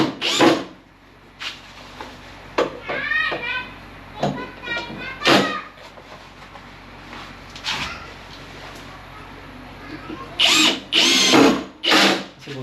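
A power tool drills into wood in short, repeated bursts with whirring revving, separated by pauses and knocks, while people talk in between.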